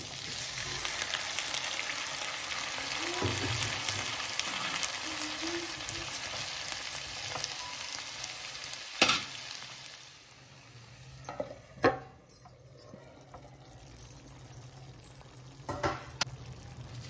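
Large tomatoes fry in a pan with onion and two green chillies for a tomato curry, giving a steady close sizzle with a few sharp stirring clinks and scrapes and no talking.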